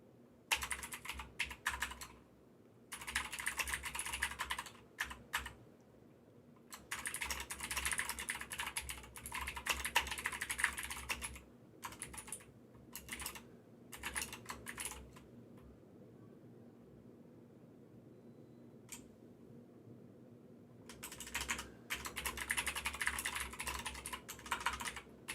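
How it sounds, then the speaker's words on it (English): Computer keyboard keys clatter during an email reply, in quick bursts of typing separated by short pauses. The tapping is close and crisp over a faint background hiss. "y'all get to hear the keys clicking"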